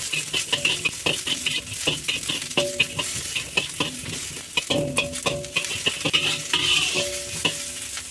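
Garlic and onion sauté in a little cooking oil in a pan for beef curry, with a steady close sizzle and repeated scraping stirs of a utensil against the pan.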